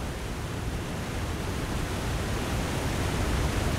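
A loud waterfall in the snowy survival game The Long Dark, a constant, dense roar of rushing water that fills the scene at an even level without a break.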